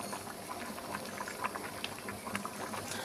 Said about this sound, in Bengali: এই যে ঘুগনি ঝোলটা একটু কমিয়ে নিচ্ছি জাল দিয়ে জাল দিয়ে